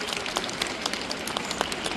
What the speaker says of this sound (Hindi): तालियां बजाइए बच्चों।